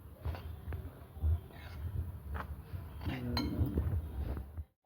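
Grated coconut roasted in a pan for karanji filling, with close, continuous stirring: metal scraping and light clinks against the pan, plus a brief louder clatter partway through.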